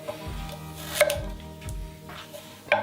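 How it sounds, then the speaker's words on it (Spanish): A knife chops vegetables into squares on a cutting board, giving several close, distinct knocks spaced irregularly, with quiet pauses between cuts. "vamos a ir picando en cuadrados que se pueden hacer más gordos o más finos"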